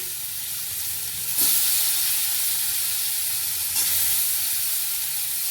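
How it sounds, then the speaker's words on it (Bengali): Onions dropped into hot oil in a pan while cooking jute leaves with pointed gourd, bursting into a loud steady sizzle that swells twice as more go in, with no talking. "গরম হয়ে গেছে, পেঁয়াজগুলো দিয়ে দিচ্ছি"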